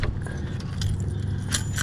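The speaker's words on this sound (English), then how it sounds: "I can take my keys off." A ring of keys jangles as it is taken off aboard a 1989 Precision 18 sailboat on the Susquehanna River, with light metallic clinks and rattles heard close up over a steady low background rumble.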